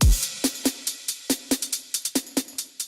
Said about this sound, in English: We can test it quickly on a mute guitar